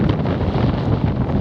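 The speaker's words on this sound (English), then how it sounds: "As it's very windy, as you may be able to hear" Strong wind buffets the microphone on a countryside walk from Berwick to Lewes near the path to Mount Caburn, a loud, continuous rumbling roar with gusty fluctuations throughout.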